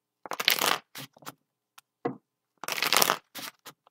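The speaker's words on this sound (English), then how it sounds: "All right, Cancer, I've shuffled and we're going to start." Tarot cards shuffled by hand in two crisp bursts of rapid riffling, close and dry against silence, with a few soft card taps and brief pauses between.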